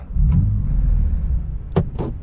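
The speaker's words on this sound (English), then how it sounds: "this car has a 3-litre straight 6 turbocharged engine. Just started up." A BMW M3 Competition with a 3-litre turbocharged straight-six idles just after starting, a low, steady engine rumble heard from inside the car, with a couple of brief clicks and rustles over it.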